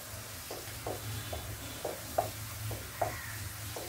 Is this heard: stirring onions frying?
yes